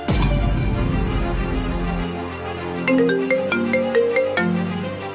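After a loud swell of low music, a phone ringtone chimes a short melodic sequence of bright electronic notes, clear and close, with no talking.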